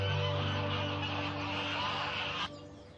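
A dense chorus of ducks quacking and honking in the Monforte gardens of Valencia, loud and continuous with overlapping calls over a low hum, then thinning abruptly near the end.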